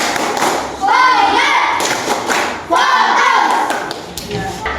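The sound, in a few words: children doing a class clapping routine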